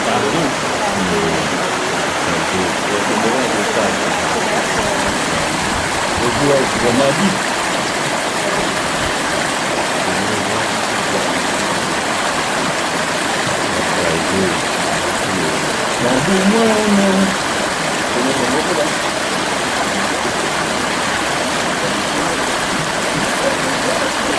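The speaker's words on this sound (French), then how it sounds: "c'est plein de petites cascades" A stream tumbles over small waterfalls in a gorge, a loud, unbroken rush of water that holds steady throughout, with faint voices now and then beneath it.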